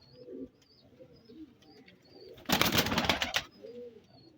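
A pigeon, at least 17 to 18 years old and kept by Ustad Altaf of Sheikhupura, gives soft low coos with a burst of close, loud fluttering in the middle.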